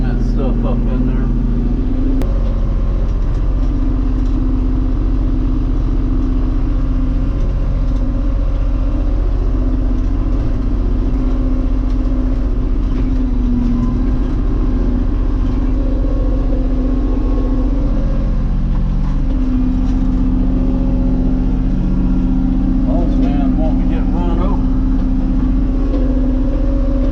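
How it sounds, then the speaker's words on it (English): A tractor engine drones steadily at close range while it pushes dirt, with shifting low rumbles and clanks as the load changes. Someone speaks intermittently over the motor. "let's take this tractor and see if we can push some of that stuff up in there"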